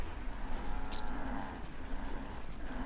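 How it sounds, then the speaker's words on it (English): A cow in Fallout 4 gives a low, drawn-out moo at moderate volume outside a settlement, over a steady bed of ambient game noise. "a cow desperately trying to push its way inside the settlement here"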